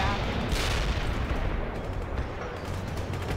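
Incoming enemy gunfire in the World in Conflict battlefield, a steady dense roar of shots and blasts filling the whole clip, loud and continuous with a brief brighter burst near the start.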